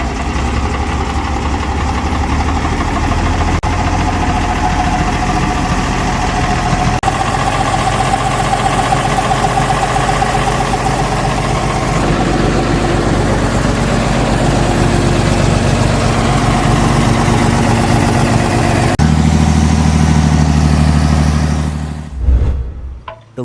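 An MTZ-50 Belarus tractor's D50 diesel engine idling, a loud, close, steady low rumble with mechanical clatter throughout, shifting slightly in pitch late on before cutting off abruptly.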